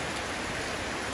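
Steady rain falling outdoors at a house in the Philippines, a dense even hiss with no distinct drops or voices.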